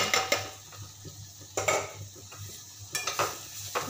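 Chopped capsicum being stirred in a pan for a spiced vegetable dish, with repeated close metallic scrapes and clinks of a spoon against the pan in irregular bursts, fairly quiet with a faint background hum.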